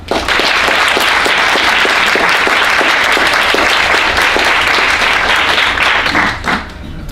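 A conference audience applauds to welcome panel speakers at a music library meeting, steady dense clapping sustained loud throughout, tapering slightly near the end.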